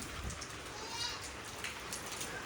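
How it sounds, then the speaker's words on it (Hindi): Heavy rain falling steadily on surfaces where animals shelter, a dense continuous hiss of drops at a constant moderate level, with faint sounds of sheep or goats possible in the background. "ये देखिए जी आज है जी बड़ी सख्त किस्म की बारिश"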